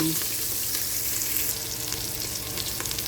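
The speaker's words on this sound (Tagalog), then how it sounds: "Igisa po natin mabuti para hindi malansa yung baka." Ginger and garlic sautéing in hot beef fat for beef papaitan, a steady close sizzle and crackle that runs unbroken through the clip, with occasional faint stirring clicks.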